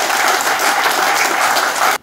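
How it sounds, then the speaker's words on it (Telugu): Loud, dense audience clapping in welcome at a public gathering, sustained evenly before stopping abruptly. "మనం గట్టిగా చప్పట్లతోటి స్వాగతం చేస్తాం."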